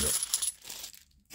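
£2 coins clink and rattle as they are shuffled aside on a surface, a brief bright metallic jingle that is loudest at first and then thins out.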